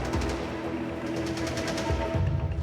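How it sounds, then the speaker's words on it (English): Heavy gunfire erupts near a UN peacekeeping base in South Sudan before dawn, a dense rattle of repeated bursts and scattered shots under a constant rumbling background, with no talking. "But just before dawn, the peacekeepers are woken by heavy gunfire."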